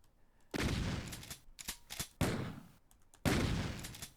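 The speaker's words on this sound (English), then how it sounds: "we're shooting at each other" Bursts of gunfire trade back and forth in the roguelike shooter Doom the Roguelike, three loud rattling volleys with short pauses and sharp single shots between them.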